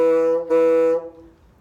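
Two short bassoon notes are played on the same pitch with a crisp ta-tongued attack, close and clear. The second note is held briefly and then fades out.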